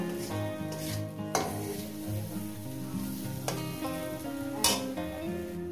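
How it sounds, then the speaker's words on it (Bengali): Coconut filling fries in a pan with a steady close sizzle, while a utensil stirs and scrapes against the pan in a few sharp clinks. "আরো 2-3 মিনিট ধরে ভেজে নেব।"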